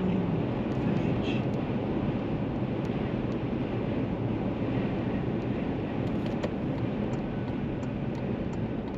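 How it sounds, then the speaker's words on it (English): Strong wind roars steadily across an abandoned diamond-mining ghost town on the Namibian coast, a loud, continuous broadband rush buffeting the microphone for the whole stretch with no voices. "The wind is blowing like the clappers today"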